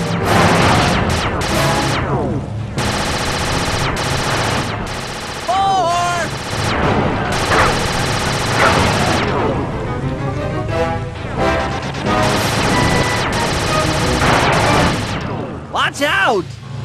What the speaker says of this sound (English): You're about to come under fire. Get to the blimp's turret and stay sharp.